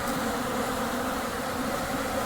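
Steady, dense insect hum of bees swarming around straw skeps in Vintage Story, a continuous buzzing drone at even loudness with no gaps for the whole stretch.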